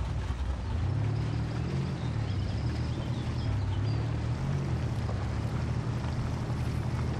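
A 1986 Ford F150 truck in the Spin Tires video game churns through swamp water, its engine droning low and steady with wavering pitch under a constant wash of splashing noise.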